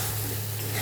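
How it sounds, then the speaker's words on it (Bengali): Steady, soft sizzle of spice paste and tomato frying in hot oil, a continuous low hiss with no breaks. "মশলাটা একদম ভালো করে ভেজে নেব।"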